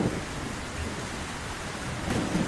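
Steady rain falling through a thunderstorm, a dense even hiss with low rumbles of thunder swelling near the end.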